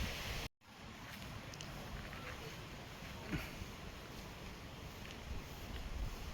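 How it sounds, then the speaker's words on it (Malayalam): Wind at the hilltop Kunnumpara Subrahmanya temple rushes steadily across the microphone as a low, faint, continuous roar, with a brief dropout near the start. "നല്ല കാറ്റുണ്ട്"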